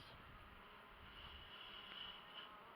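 Steady, faint buzzing of many honeybees at a hive entrance, a continuous low hum with no voices, bees milling about close by.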